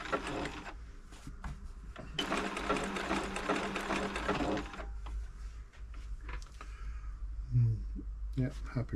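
An Elna Club Computer 500 sewing machine runs a zigzag stitch in steady motorized bursts of needle chatter, close up and loud, with someone talking in between and mechanical clicks and handling knocks.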